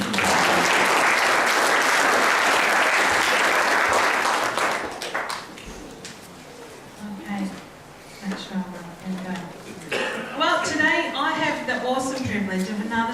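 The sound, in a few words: church congregation applause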